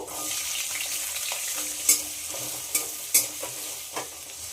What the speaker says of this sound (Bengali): রসুনের কাঁচা গন্ধ চলে গেছে, এবার কেটে রাখা আলুগুলো দিয়ে দেব।